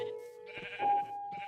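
A sheep bleats in the Minecraft video game, a short, wavering, nasal baa heard close and clear over faint game background sound.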